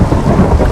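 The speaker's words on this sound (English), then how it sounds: "that thunder is super loud in my earphones that I'm wearing" Loud, dense rumble of thunder during a storm in the Minecraft video game, a continuous broadband roar with no voices.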